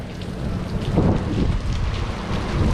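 Steady, dense rain pours and patters on surfaces nearby, a constant hiss with no voices.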